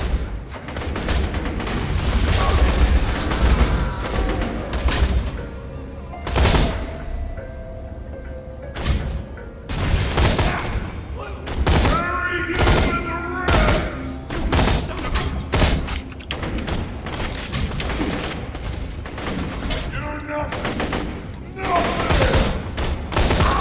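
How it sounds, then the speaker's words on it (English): Enemy gunfire in Borderlands 2, a mix of scattered shots and bursts with thuds and game effects, fairly loud and dense throughout, with some talk mixed in. "I knew they were shooting me"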